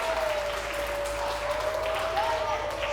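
An audience claps steadily for a few seconds, a continuous patter, while a thin sustained tone hangs underneath.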